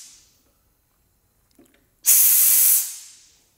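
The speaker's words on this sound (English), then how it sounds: "First thing we're going to do is release the air pressure from the chain." Compressed air bursts out in a loud, steady hiss lasting under a second as pressure is released from the chain of an over/under car wash conveyor, preceded by a faint metallic knock and quiet surroundings.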